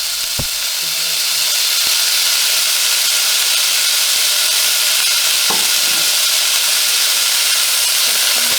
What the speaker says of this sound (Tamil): அடுத்தது வெங்காயம், மிளகாய், கருவேப்பிலை இதெல்லாம் போட்டு தாளிக்கணும்.